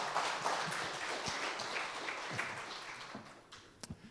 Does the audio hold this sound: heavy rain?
no